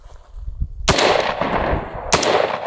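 Two loud, close gunshots from a budget AR10 rifle during a torture test, about a second apart, each a sharp crack followed by a ringing outdoor echo.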